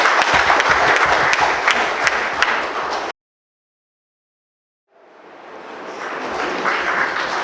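An audience at a public felicitation event claps in loud, dense applause that cuts abruptly to silence, then fades back in and builds to full strength again.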